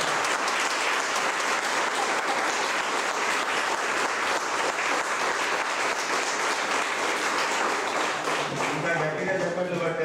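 A sustained round of loud crowd applause at a Shakti Peetham temple trust ceremony, many hands clapping densely for the whole stretch, with a voice starting up faintly near the end.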